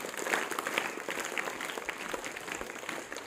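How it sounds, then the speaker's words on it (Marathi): An audience claps for a performer at a stage event, a steady wash of applause from many hands, moderately close and fairly even throughout, with a faint voice underneath. "तुमच्या समोर येणारे दादा कोंडके यांच्यासाठी जोरदार टाळ्या व्हायला पाहिजे."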